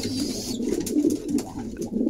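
Pigeons coo in a close, repeating low throaty rhythm, several soft rolling calls overlapping through the short stretch with faint background noise and no talking.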